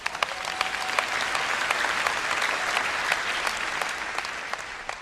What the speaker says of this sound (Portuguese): Vamos, aplaudir o Rei da Glória.